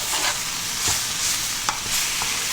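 Cooked noodles being stirred into vegetables in a pan for Chinese vegetable noodles: a continuous sizzle broken by a few sharp scrapes and clacks of a utensil, close and fairly loud.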